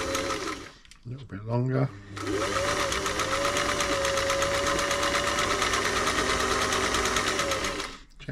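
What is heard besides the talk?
Singer 348 sewing machine sewing straight stitch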